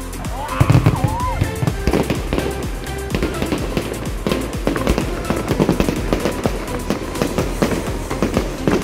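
Fireworks burst at night in Strasbourg as a dense, continuous barrage of cracks and booms, loud and close, with faint crowd voices beneath.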